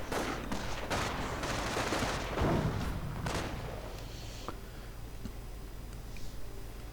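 Gunfire from German MP40 submachine guns during a WWII strategy game battle, a dense continuous clatter of overlapping shots and distant bursts with scattered sharper cracks, steady and fairly loud throughout with no talking.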